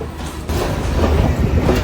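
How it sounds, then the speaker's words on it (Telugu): Train on the line to Colombo Fort station in Sri Lanka, a loud near rumble of rolling wheels that swells after a short pause, heard alone. "మనం వచ్చిన ట్రైన్ కూడా వెళ్ళిపోతుంది."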